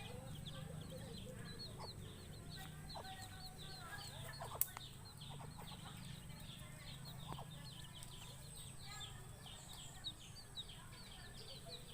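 Young chicks peep and cheep in a rapid, busy chatter, with ducklings kept nearby. The sound is faint and steady under low background hum, with a few soft taps and rustles.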